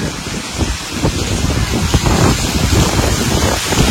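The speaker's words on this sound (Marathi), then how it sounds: "वारा बघा किती आलाय, डेंजर।" Strong wind roars and buffets the microphone in loud, uneven gusts, a rushing noise like surf with no other sounds standing out.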